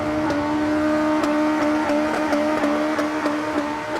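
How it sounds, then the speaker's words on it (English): Race-spec engine of an old Toyota Corolla held against the rev limiter, droning at a high steady pitch with repeated rhythmic stutters as the limiter cuts in, loud and close with no talk. "his race spec engine didn't mind bouncing off the rev limiter"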